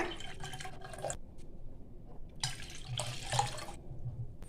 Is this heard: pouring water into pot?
yes